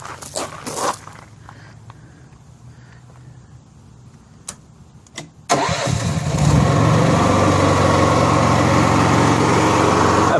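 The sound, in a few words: Honda gas-powered arc welder generator engine starting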